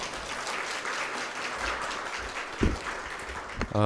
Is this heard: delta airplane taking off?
no